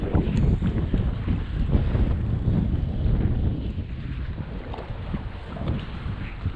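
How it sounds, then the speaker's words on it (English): Strong gusty wind buffets the microphone on the deck of a 2019 Azimut 27 Metri yacht with a heavy rumbling roar, rising and easing slightly but never letting up, with no talking. "I apologize for the wind. I know it is kind of windy."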